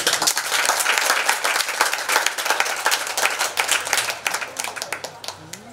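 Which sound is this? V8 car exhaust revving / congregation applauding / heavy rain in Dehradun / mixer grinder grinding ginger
congregation applauding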